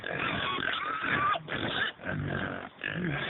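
A pig on a farm grunts and snorts in three close, rough bursts separated by short pauses, loud and near.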